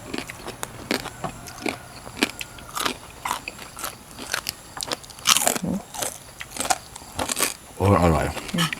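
Someone eats rice noodles in fermented fish sauce with crisp vegetable stems and bitter melon, making repeated close, crisp crunching bites and chewing. A person speaks Thai between mouthfuls.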